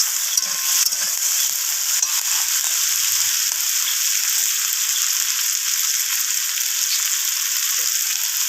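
Eggplant pieces and leafy greens fry in hot oil, giving a continuous bright sizzle up close while being stirred, with occasional soft scrapes and no voices.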